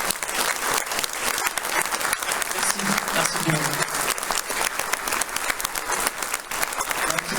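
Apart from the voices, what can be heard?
concert audience applauding the musicians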